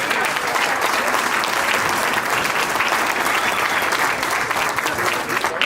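Applause for the best man, Joe, at Michael and Andrea's wedding reception, a room of guests clapping loudly and steadily for several seconds, dense and close.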